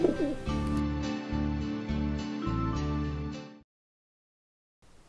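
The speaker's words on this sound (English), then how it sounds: "Look at the dove flying." A dove coos in a series of soft, rounded, repeated hoots, close and clear, ending before a brief silence.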